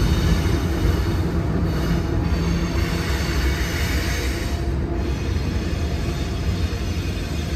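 A long freight train with middle and rear DPU locomotives rolls past, a loud, steady broadband roar of wheels and engines filling the whole stretch without pause or voices.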